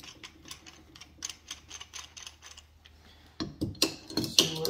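A used oil filter from a 5.3L LS engine is cut apart, starting as a run of light, rhythmic metallic clicks and ending in louder, harsher scraping crunches up close.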